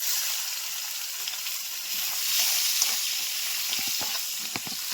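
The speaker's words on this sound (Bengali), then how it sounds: "পেঁয়াজটা লাল লাল করে ভাজা হয়ে গেছে" Chopped onion fries in oil with whole spices and dried chili, a steady soft hiss with faint crackles and small pops near the end, heard up close with no talking.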